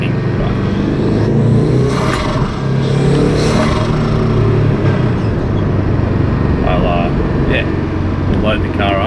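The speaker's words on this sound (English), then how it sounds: "I've got a couple flutters, but I'll get on like brake and brake booster, and you can hear the intake real good right then." A Subaru WRX builds boost with a loud, close engine and intake roar, broken by brief fluttering bursts from the turbo, while a person talks over it.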